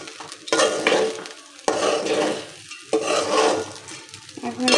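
Rice frying in a pan for khichuri, stirred in repeated bursts: scraping spatula strokes over a steady sizzle, loud and close, with brief pauses between strokes.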